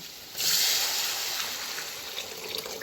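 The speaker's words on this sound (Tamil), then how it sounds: "இப்போ தண்ணி ஒரு கப் அளவு சேர்த்துக்கலாம்" A cup of water is poured into poori masala cooking in a pan, giving a steady close splashing hiss that begins suddenly and runs on alone.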